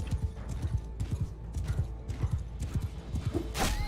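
A horse in the Bannerlord video game gallops off, rapid rhythmic hoofbeats thudding close and clear, ending in a sharp whinny.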